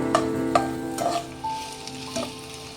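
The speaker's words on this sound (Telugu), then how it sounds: "అవి బాగా వేయించుకోవాలండి, కొంచెం వేగాలి" Vegetable manchurian balls frying in oil, a loud close crackling sizzle with a few sharp spoon clinks and stirring knocks over it.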